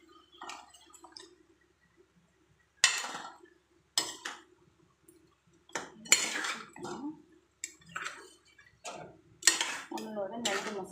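A utensil stirring crab masala scrapes and clanks against a pot in irregular strokes, with wet sizzling and occasional clinks, close and moderately loud.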